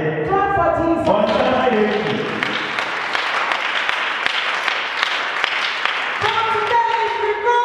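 Church congregation clapping for Jesus during a sermon, a sustained wave of applause from many hands with voices and shouts mixed in, opening and closing with speech.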